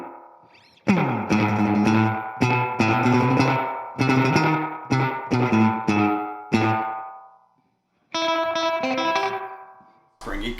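An electric guitar runs through a Fender Celebrity pedal set to a quick, springy delay: a series of struck notes and chords, each ringing out and decaying, then a short silence before another sustained chord.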